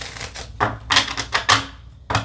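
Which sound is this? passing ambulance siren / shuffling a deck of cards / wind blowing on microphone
shuffling a deck of cards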